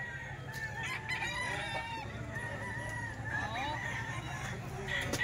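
Lemon-line gamefowl roosters owned by Captain Totoy crow repeatedly, with several overlapping calls over a steady low hum and farmyard background noise.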